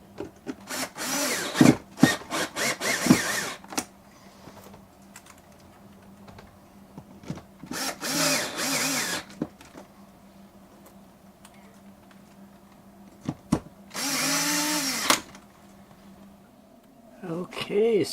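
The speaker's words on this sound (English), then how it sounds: "So now we'll go in and put the inside frame on and screw it together." A power drill drives screws to join the inside frame of a small RV slide-out window, giving several short, loud bursts of whirring amid quieter handling clicks and someone talking in between.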